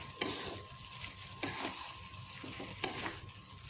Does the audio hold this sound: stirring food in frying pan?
yes